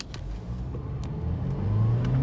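Close engine of a 2015 Mercedes-Benz C300 Sport revving as it accelerates, the pitch climbing steadily and getting louder, with no talking.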